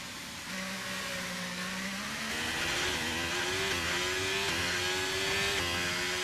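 F1 race car engine in the F1 23 video game at the Austin, Texas track, a rising tonal whine climbing in pitch through several gear steps, steady and fairly quiet with no speech.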